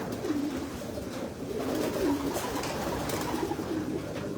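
Low cooing of several pigeons, breeder stock birds, rises and falls over a dense, noisy background in a crowded breeders' loft.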